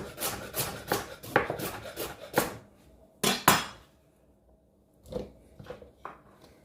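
Carrot and orange pieces, skins on, drop into a blender jar in a series of hard, hollow knocks and clatters, close and sharp, followed by a few quieter thuds after a pause.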